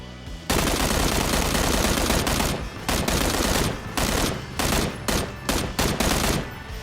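M16A4 rifle fire in PUBG: loud, close bursts of rapid automatic shots, first one long sustained burst, then several shorter bursts separated by brief gaps, with no talking.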